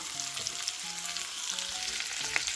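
Vegetables and apples sizzle steadily in a hot pan, a continuous crackling hiss with a few brief soft clinks.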